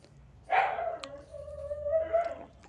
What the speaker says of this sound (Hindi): कुछ कुत्ता भौंक रहा है बाहर तो उसका आवाज़ आ रहा होगा